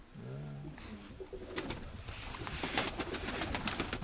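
A pigeon in a keeper's loft coos a few low, rolling notes at the start, followed by scattered rustling and fluttering clicks, with no speech.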